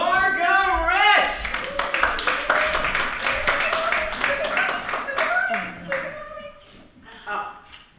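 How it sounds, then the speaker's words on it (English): An audience claps at a community theatre production of The Talented Clementine, with sustained, lively applause alongside voices and musical tones, fading toward the end. "So a round of applause"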